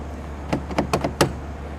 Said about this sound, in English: I'm going to lock the door.